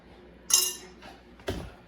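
A metal spoon drops into a glass of water in a kitchen, giving two bright, short clinks about a second apart with quiet room tone between them.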